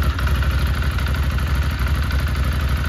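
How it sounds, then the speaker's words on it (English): Ducati Scrambler motorcycle engine running in neutral just after being started following a service, a steady loud close-up idle with a rapid throbbing beat and mechanical clatter, no talking. "So this is it firing up. It's in neutral now. We just press the button."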